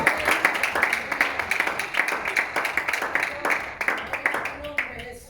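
A Spanish-speaking church congregation claps for the Lord during a service, with rhythmic, fairly close hand claps in quick pulses, mixed with voices and fading toward the end.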